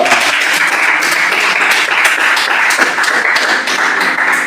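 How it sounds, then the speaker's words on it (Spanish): Audience in a church applauding together, a dense, steady wash of many hands clapping at once, sustained and fairly loud for several seconds with no talk. "¿Quieres darle un aplauso conmigo a este Señor?"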